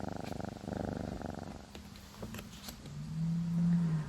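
A domestic cat purring, a soft rhythmic low rumble that pulses steadily and then grows louder and smoother near the end, heard close up and alone with no talking.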